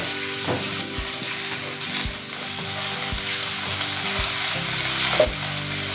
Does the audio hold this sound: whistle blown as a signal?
no